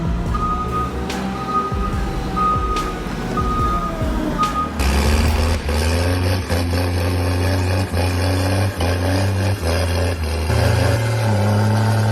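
A heavy tractor hauling about 40 tons of timber over extremely rough terrain keeps up a deep, loud engine drone throughout, with sharp repeated reversing-style beeps in the opening seconds.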